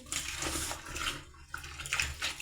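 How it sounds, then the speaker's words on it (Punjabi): Kitchen towels lifted out of hot water, giving soft splashing and dripping with water sloshing in a basin, faint and close. "ਆਪਾਂ ਇੱਥੇ ਗਰਮ ਪਾਣੀ ਵਿੱਚੋਂ ਪੂਣੇ ਜਿਹੜੇ ਕੱਢ ਲਾਂਗੇ"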